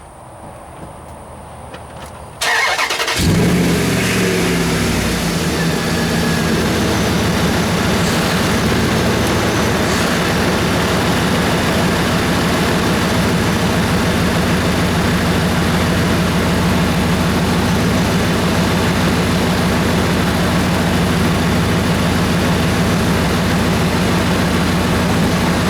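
A Dodge Ram 2500 engine starts after a short quiet moment, then runs loud and steady for a long stretch, a constant heavy droning hum with no voices.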